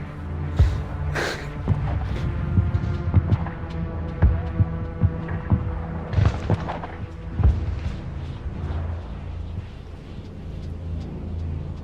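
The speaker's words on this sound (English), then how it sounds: "did anyone hear like that heartbeat? Like, jeez, is that the game?" A heartbeat thumps through the sci-fi game Mass Effect, a steady run of low throbbing beats over a droning hum, loud and close with no talk.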